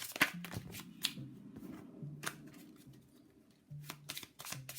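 Oracle cards shuffled by hand for a draw, a series of quiet, close riffling and sliding card bursts in an irregular rhythm.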